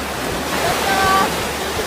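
Sea waves washing onto a beach in the evening, a steady broad rushing surf, loud and continuous with a faint voice underneath.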